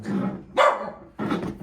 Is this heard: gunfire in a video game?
no